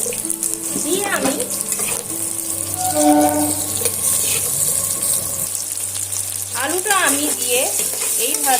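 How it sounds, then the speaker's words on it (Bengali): Potatoes fry in a kadai with dried chilli over low to medium heat, a steady close sizzle with stirring scrapes throughout, while a voice talks intermittently above it. "এবার আমি আগে থেকে যে আলুটা আমি রেখেছিলাম সেটা আমি আলুটা কড়ার মধ্যে দিয়ে দেবো"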